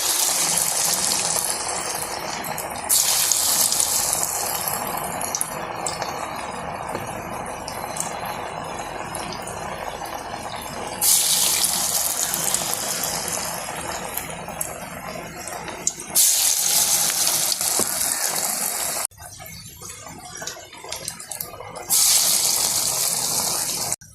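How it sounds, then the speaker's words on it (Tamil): Vallarai keerai vadai frying in moderately hot oil, a loud steady sizzling hiss that surges and drops in bursts as batter goes in, with no talk over it. "எண்ணெய் ஹீட் ஆகிட்டு நம்ம இதை போட்டு பொரிச்சிக்க வேண்டியதான்"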